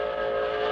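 A steady, sustained train whistle blows with a strong tone, loud and unbroken for under a second, with no talk over it.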